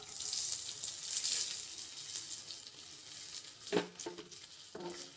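Onions and green chillies sizzle steadily in an open pan for rava upma, a soft continuous frying hiss with a few brief clinks of a spoon against the pan near the end.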